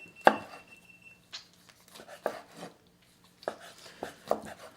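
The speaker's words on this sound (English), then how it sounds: "while Chef Nicole is slicing there" Knife slicing salsa ingredients on a cutting board, a handful of sharp, close, crisp chopping strokes in irregular bursts, with no talk.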